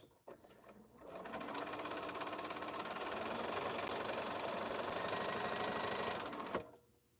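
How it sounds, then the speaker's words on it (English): A sewing machine stitches quilting lines across a quilt top in one continuous, steady run of about five seconds. The rapid mechanical whir is close and fairly loud, with a clunk at the start and at the stop. "I think I'm going to put some quilting lines on here."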